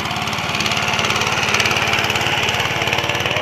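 Motor Sich MB-9E walk-behind tractor harrowing a field after potatoes, its small engine running close and loud in a steady pulsing chug that holds even throughout with no voices.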